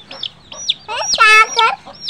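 Several short, high chirping peeps from a chicken chick, repeated every half second, with one louder cluttered squawk in the middle.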